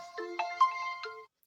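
A ringtone plays on a realme narzo 60x 5G phone: a short bright melodic tune of several clear tonal notes in quick sequence, close and moderately loud, lasting about a second before stopping.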